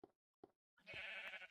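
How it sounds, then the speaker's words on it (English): Sheep bleating in the Minecraft video game: two short bleats followed by a longer, louder bleat, all clear and close with no talk. "that sheep just spawned there."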